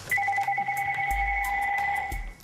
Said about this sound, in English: The phone has not stopped for you.